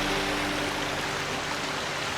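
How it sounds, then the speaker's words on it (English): Clear stream water flows and gurgles over rocks outdoors, a steady close rushing wash with no voices. "Years of water flowing over these rocks."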